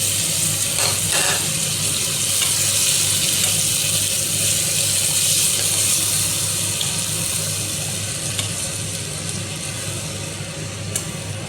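Pieces of raw mango dropped into hot oil with charred panch phoron and a pinch of turmeric, giving a steady, loud broadband sizzle that hisses on without pause and fades slightly toward the end, with no voices.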